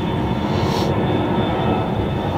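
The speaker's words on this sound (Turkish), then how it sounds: "Şu anda kalkışta bir uçak var." A Belavia Boeing 737-500 airliner takes off at an airport, its engines producing a steady, loud roar with a constant whine, no voices.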